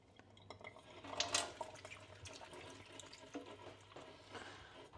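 Hot water runs from a tap into a sink during washing, a faint, steady splashing with small clinks of dishes, close by and quiet.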